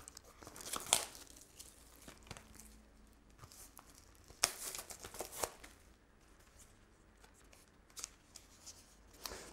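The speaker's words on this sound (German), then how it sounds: "Ich mache auch mal die Packung auf. Ich habe natürlich keine Schere zur Hand." A video game package, The Last of Us Ellie Edition, torn open by hand without scissors, with crinkling, ripping plastic and cardboard in scattered bursts, some sharp tears standing out, close and fairly quiet, with no speech.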